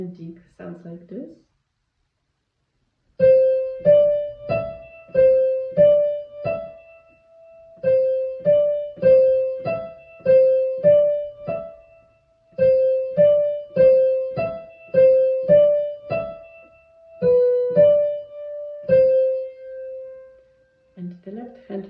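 Piano playing the ending of a ragtime piece at tempo, a run of detached repeated notes in short phrases that finishes on a held tone, with no voice over it.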